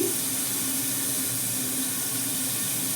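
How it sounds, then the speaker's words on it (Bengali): Potatoes and pointed gourd fry under a lid in a covered pan, giving a continuous loud, even sizzle and hiss with no voices. "এবার আমি ঢাকা দিয়ে দিয়ে ভেজে নিচ্ছি"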